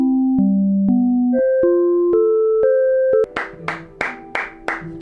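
An AI-generated MIDI melodic theme for an epic adventure score: a rising line of clear synth notes, stepping upward one at a time, then a run of brighter plucked chords, loud and alone.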